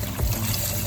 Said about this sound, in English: So there, we have a water feature.